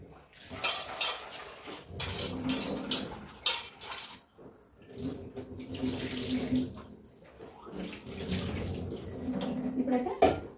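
Tamarind is rinsed by hand in water, with bursts of splashing, sloshing and trickling in a vessel near the mic, separated by short quiet pauses.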